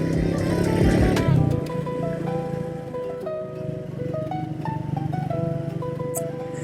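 Triumph Speed 400 motorcycle climbing a mountain road, its engine a steady close drone with shifting tone and some wind rush throughout, no talk.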